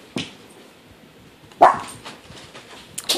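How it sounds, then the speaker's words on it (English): A pet dog barks in a home, a few sharp separate barks spaced across a few seconds, fairly close but not very loud, with quiet room tone between them and no talking. "Sorry, my dog is going a little bit nuts."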